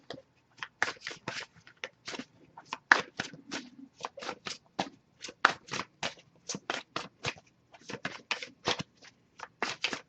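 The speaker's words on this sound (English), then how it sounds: "if I shuffle for a while and nothing comes up, we'll just move on to the next deck" Tarot cards shuffled repeatedly in quick crisp riffles and slaps, a rapid irregular rhythm of short flicking bursts, close and fairly quiet, without talking.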